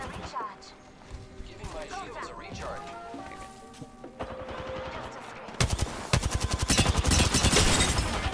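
Rapid automatic gunfire from an Apex Legends Arenas match, starting after sporadic game effects and becoming a dense, loud burst of shots near the end, with a player's voice and game sounds mixed in.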